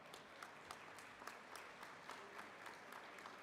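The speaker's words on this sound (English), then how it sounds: "Round of applause, please." Applause for a graduate at a health sciences convocation, a steady, fairly faint patter of many hands clapping from an audience with no voices on top.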